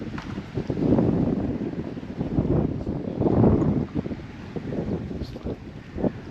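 Strong, steady wind blows across the microphone outdoors by the water in Cape York, with a continuous roar that swells in gusts and never drops off.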